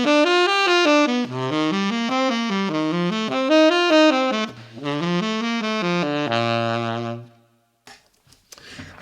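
Clear, evenly plucked arpeggios outline a 3-6-2-5-1 chord sequence, each chord's tones rising and falling in a steady run before a final chord rings out and fades.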